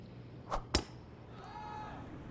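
A golf tee shot in a PGA Tour video game on a course beside Puget Sound, with a brief whoosh of the swing, then a sharp single crack of club on ball, followed by faint ambient crowd tone, no talk.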